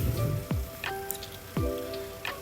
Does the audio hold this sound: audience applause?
no